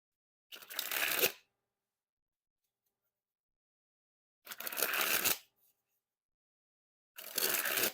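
Orbit Seventh Edition playing cards sprung from hand to hand in three separate bursts of rapid fluttering riffles, close and crisp, with silence between them and no talking.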